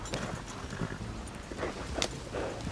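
Horse hooves clip-clop on the ground in Red Dead Redemption 2, with soft, uneven hoof beats at moderate distance over a low outdoor ambience.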